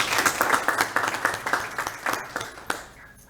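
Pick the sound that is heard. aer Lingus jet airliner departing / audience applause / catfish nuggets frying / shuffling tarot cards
audience applause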